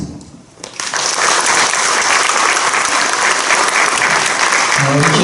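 Loud, dense applause from an audience at a church general assembly candidate policy debate, starting abruptly after a brief lull and continuing steadily, with a faint voice near the end.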